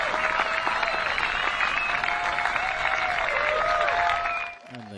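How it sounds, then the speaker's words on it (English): A disc golf gallery claps warmly at the 18th green during a final-round tournament, a dense, steady patter of many hands that carries on for several seconds before fading out. "the gallery giving the warm applause as all of our competitors are moving into the 18th green"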